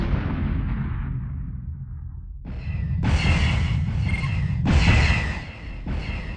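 Weapons fire striking ships in a Star Wars space battle video game, a fading rumble followed by several heavy booming blasts and bursts in close succession, loud and alone.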